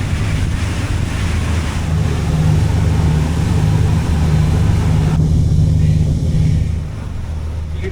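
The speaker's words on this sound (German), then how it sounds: "Man hört das Rauschen des Wassers und die Maschinen sind relativ leicht." A houseboat cruises between Medemblik and Den Helder, a steady broadband rush of water against the hull with wind noise over a low, even engine drone, constant and close throughout.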